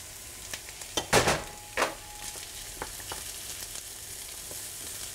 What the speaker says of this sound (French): on fait un peu suer les oignons, on les remue avec une cuillère en bois.